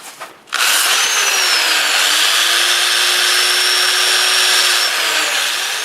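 A wood lathe spins up after a brief thump, then a steady whirring drone with the hiss of 80-grit sandpaper against turning wood, loud and close.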